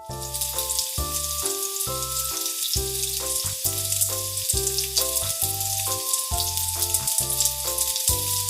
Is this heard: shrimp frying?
yes